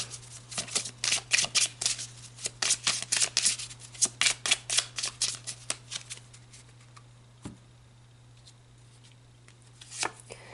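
A tarot deck is shuffled by hand in quick riffling bursts, a rapid series of crisp close flutters for about six seconds, then mostly quiet with one or two later riffles.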